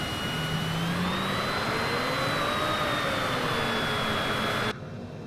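Steady roar of Cessna Citation CJ4 jet engines spooling for takeoff in Microsoft Flight Simulator 2020, with rising whine tones, continuous and loud before cutting off near the end.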